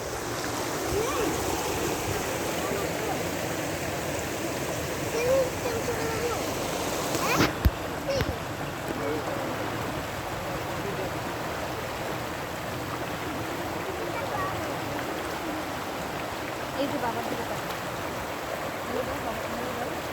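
A child splashing and playing in stream water outdoors, with continuous rushing water and soft splashes throughout, and a sharp knock near the middle; voices are faintly present.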